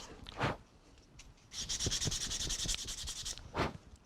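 Wooden knife handle being sanded by hand: a few short scrubbing strokes, then a longer stretch of fast, rhythmic rasping, close and moderately loud.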